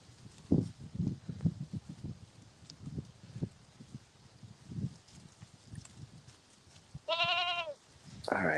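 Goats graze among sheep on a farm, with scattered close footfalls and shuffling, then a loud wavering bleat and another that begins just before the end.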